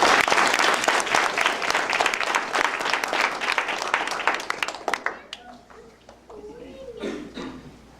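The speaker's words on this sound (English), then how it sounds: "Please give her a round of applause." A speech contest audience applauds a speaker at an evening event, a loud burst of dense clapping that fades out after about five seconds, followed by a voice speaking quietly.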